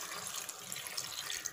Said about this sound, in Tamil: கொஞ்சமாக தண்ணி ஆட் பண்ணிக்கலாம்